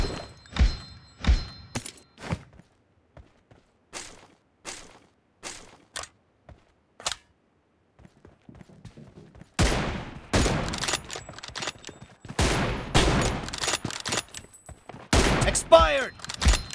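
Gunfire in the mobile shooter BGMI, with an M24 bolt-action sniper rifle in use: sharp separate shots spaced a second or so apart, then a dense stretch of rapid overlapping bursts and impacts near the end.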